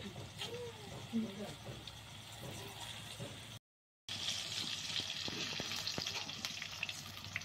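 Round rasbora batter balls deep-frying in oil for a Poush Sankranti pithe, with a steady close sizzle and crackle throughout, a brief dropout midway, and faint talk in the background.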